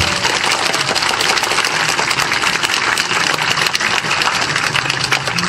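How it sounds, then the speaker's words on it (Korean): Applause rolls through the audience at a Liberty Korea Party political event in Andong, a loud, continuous, dense roar of clapping with a steady texture throughout and no talk over it. "다시 한번 뜨거운 박수를 부탁드립니다."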